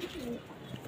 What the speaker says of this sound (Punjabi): ਇਹ ਕਬੂਤਰ ਆ ਜੀ